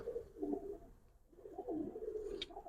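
Giribaz pigeons coo in a loft, two soft rolling calls close by against a quiet background.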